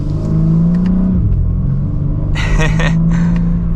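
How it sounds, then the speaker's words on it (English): A 2025 BMW M4 Competition accelerating from inside the cabin, its engine note a steady low rumble that climbs in pitch as it revs, with a short stretch of a voice talking over it. "So let's give it another acceleration."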